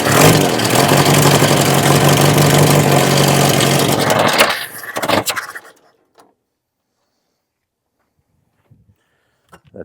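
Ford Courier truck that sat for 30 years running loudly up close for about four seconds, then the engine cuts out and quiet follows with a few faint knocks.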